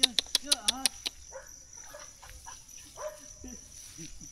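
A dog near a fishpond gives a quick run of loud, close barks at the start, then falls quiet while people talk nearby.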